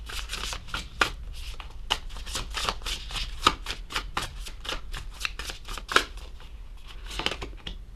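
Tarot cards being shuffled and drawn from the deck, a close, fairly quiet run of crisp riffling flicks and slaps in an irregular rhythm, without speech.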